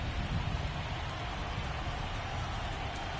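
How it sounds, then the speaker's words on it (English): Rain falls at Dodger Stadium in a baseball video game, heard as a steady, even hiss of rain on surfaces with a faint murmur underneath and no clear talk. "Dodger Stadium in the rain."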